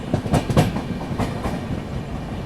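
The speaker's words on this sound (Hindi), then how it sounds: "ओ भाई, एक और ट्रेन को ओवरटेक कर रहे हैं।" A Humsafar Express train running past another train, with a quick clatter of wheels over rail joints and rushing wind, close and fairly loud, no voices.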